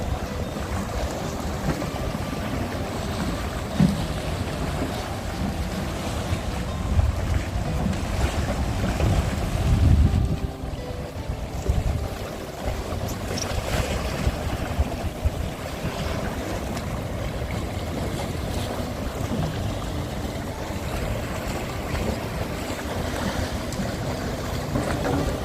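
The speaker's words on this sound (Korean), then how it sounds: "잔잔한 바닷물결 소리가 귀를 채웁니다." Calm sea waves with wind blowing across an open coastline, a steady rushing wash of water and gusts with low rumbling microphone wind buffets and no voices.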